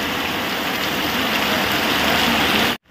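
Steady rain falls on a Botad village farm, a constant dense hiss close by that runs evenly and then cuts off abruptly at the end, with no talking.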